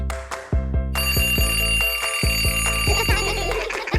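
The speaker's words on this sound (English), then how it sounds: "Ring, ring, ring! Ah! Whoa, the clock is yelling!" A cartoon alarm clock in a Minions animation rings loudly and steadily. A rapid metallic bell clang runs throughout over regular low thumping beats, with no voices.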